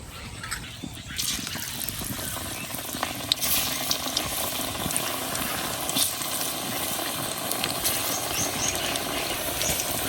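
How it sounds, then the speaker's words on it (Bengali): Sliced onions for piyaju sizzling in hot oil in a pan, a steady crackling fry that starts after a brief quieter moment and continues with soft stirring noises; a voice speaks faintly at times. "তেল গরম হয়ে গেছে, এখন আমি পেঁয়াজগুলা ভাইজে নিয়াম।"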